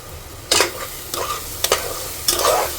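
Cooked chicken stirred into a frying ground masala paste for chicken curry, the oil separated from the paste: four distinct scraping stir strokes over a gentle, steady sizzle, with no talking.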